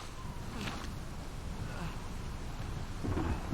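Rain and rolling thunder in the video game Uncharted 4 form a dense, low rumbling wash with heavy rainfall, faint and steady throughout.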